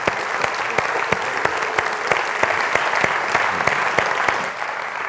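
Lecture audience gives a warm round of applause to welcome a speaker, loud continuous clapping with sharp individual claps standing out throughout.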